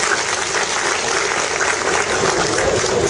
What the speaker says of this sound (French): Je souhaiterais qu'on les applaudisse.